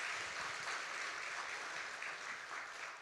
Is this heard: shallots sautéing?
no